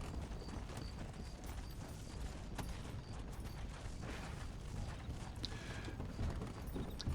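A war horse in the Red Dead Redemption: Undead Nightmare game clip-clops along at a steady trot, the hoofbeats quiet and continuous under faint creaks of tack with no talking.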